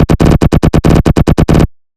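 A synthesized tearout bass run through a comb filter fires in a rapid, stuttering machine-gun rhythm of about a dozen harsh, gritty hits, loud and alone, cutting to silence at the end.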